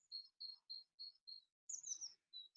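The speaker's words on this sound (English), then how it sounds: "I really hope that you can hear all the birds singing around me" Small birds chirp in a garden during an outdoor yoga relaxation, a quiet, even series of short high notes followed by a brief louder flurry of chirping, with no voices.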